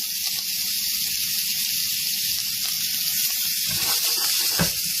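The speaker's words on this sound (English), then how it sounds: "I'm going to add my onion first. All right, onion's going to cook down." Onion sizzling in hot oil in a pan gives a loud, steady, close hiss that runs the whole time, with a few clattering bumps from the pan toward the end.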